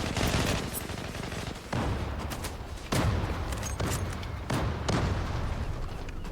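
Gunfire in the online shooter Zula, loud rapid bursts of automatic fire in several separate volleys, close and dense, with no talk.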